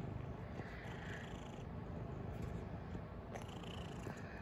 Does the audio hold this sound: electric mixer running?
no